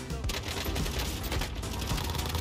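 Rapid fire from a Bullfrog submachine gun and Krig 6 rifle in a Warzone fight, dense overlapping bursts of automatic gunfire, loud and close throughout.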